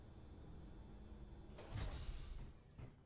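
Lift doors in Space Engineers slide shut with a brief mechanical whoosh and a low clunk that lands mid-clip, set against a steady quiet hum, with a softer thud trailing after.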